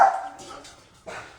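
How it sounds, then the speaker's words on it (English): A dog barks a few times nearby, sharp and fairly loud, with short gaps between the barks. "That's my dog who's barking."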